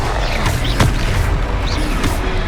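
A Confringo explosive spell blast in the Hogwarts Legacy video game bursts with a sharp boom near the middle, set in a dense, busy mix of combat effects and low rumble.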